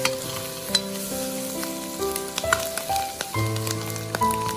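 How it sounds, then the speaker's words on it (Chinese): Chicken feet stir-fried in a wok with garlic, a loud continuous sizzle and crackle with scraping of the spatula as they are tossed, close up and steady throughout with no talking. "炒香之后下入鸡爪，再快速的翻炒均匀，"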